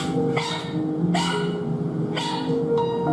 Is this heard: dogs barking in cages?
yes